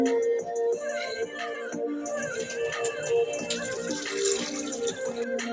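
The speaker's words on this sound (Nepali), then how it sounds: "अब यसमा भएको पानी सबै फालिदिन्छु" Soaking water poured off bamboo shoots that had sat half an hour with turmeric, running steadily and fairly close in a continuous splashing stream, with no talk.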